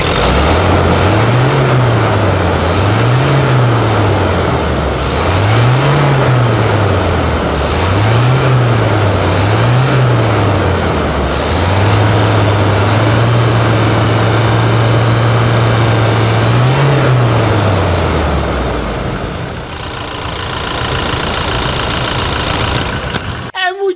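A Toyota Hilux engine runs loud and close after an oil change, revving up and down in repeated swells, then holding a steady higher pitch before dropping off near the end.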